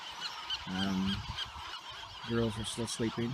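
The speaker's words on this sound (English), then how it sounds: "They say it's the largest nesting ground for seagulls in North America." Seabirds calling at a large nesting colony on Anacapa Island, loud harsh honking calls in two bursts, the second a rapid series, against a busy background of distant bird cries; a person speaks briefly.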